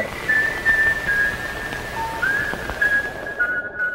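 A clear whistled melody from a K-pop song plays as a run of sustained, slightly wavering notes, with faint background noise underneath and no talking.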